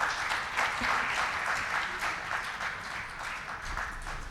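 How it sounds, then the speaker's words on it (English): A conference audience gives a round of applause for the session's speakers, a full, even wash of clapping that stays strong throughout and eases slightly toward the end. "I request you all to please join me and have a round of applause for them."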